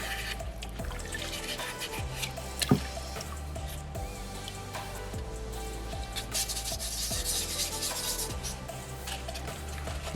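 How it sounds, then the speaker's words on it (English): Sandpaper rubbing steadily over a small soapstone butterfly carving, a close, continuous gritty scratching in short back-and-forth strokes, with no talking. "I'll just open that sandpaper up to just cover as much surface area as possible. Get as much of that stone as I can."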